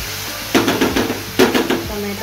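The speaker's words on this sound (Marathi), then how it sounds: "टमाटरला पण भाजून घेऊया" Tomato and onion fry in a pan for a Goan sardine ambot tik, heard as two short bursts of close stirring and scraping over a soft sizzle.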